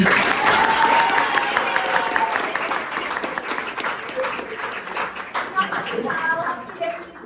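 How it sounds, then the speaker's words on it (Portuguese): Applause from a school audience after an interview episode with a visiting doctor, dense clapping filling the room and slowly thinning out, with voices talking over the tail end. "por favor, aplaudam"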